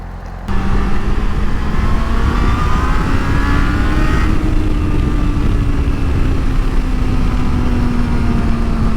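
A motorcycle engine runs at maximum heat, its steady, close drone starting abruptly after a brief pause and holding with only a slight rise in pitch midway.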